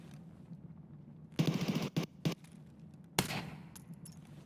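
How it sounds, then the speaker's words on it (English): Escape from Tarkov gunfire crackles in short, choppy automatic bursts. A rapid volley is followed by two quick clipped shots and a final burst, loud against a low ambient drone. "I hate those stuttery gun sounds."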